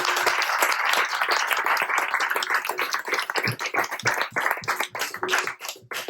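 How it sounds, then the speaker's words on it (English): Dense, close clapping from an audience at an impact investment panel discussion, honoring the panelists with sharp overlapping claps and no talking, thinning slightly toward the end. "huge round of applause for our panelists"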